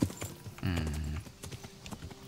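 Horse hooves clopping during a ride in Kingdom Come: Deliverance, a quick uneven run of hoofbeats with a brief horse snort or whinny near the start, moderately close and fairly quiet.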